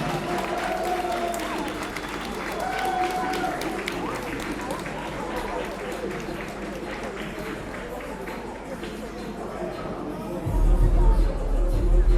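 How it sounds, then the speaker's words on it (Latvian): Applause and cheering from the audience at a youth wrestling title bout honour wrestlers Mārtiņš and Arčoms, with sustained clapping and crowd noise mixed with an announcer's voice over the arena speakers, and a louder bump near the end. "Skatītāji, aplausi Mārtiņam un Arčomam."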